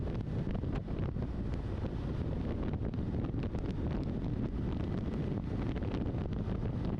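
Steady, loud wind buffeting on a Ninja 500 motorcycle cruising down a freeway, a continuous roaring rush of air with a low engine drone underneath and no talking.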